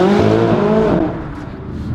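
A McLaren 570S with a 3.8-litre twin-turbo V8 growls loudly with harmonic engine tones that fall in pitch as it eases off, then settles into a lower, rougher hum.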